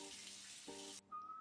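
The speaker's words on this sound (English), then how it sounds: "Rinse off our hands." Water running from a tap while hands are rinsed, a faint steady hiss of flow that cuts off after about a second, followed by a thin whistle-like tone.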